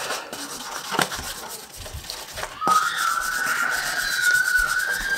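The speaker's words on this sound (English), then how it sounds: "smooth my sanding out" Close, steady rubbing of very high-grit sandpaper across a surface of a DIY bowed guitar, with a few light knocks early on and a scratchy hiss that continues to the end.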